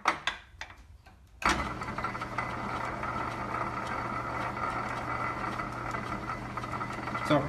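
Metal lathe chuck spinning freely after popping out of back gear, a steady close mechanical whirr with a low hum that starts abruptly after a brief quieter moment, with a voice speaking at the start.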